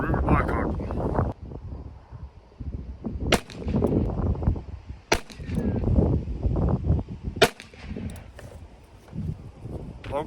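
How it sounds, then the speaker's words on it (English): A Ruger Blackhawk revolver fires .45 ACP semi-wadcutter rounds outdoors: three sharp, separate cracks spaced a couple of seconds apart, with wind noise and people talking between the shots. "first gun we're going to try is the Ruger Blackhawk."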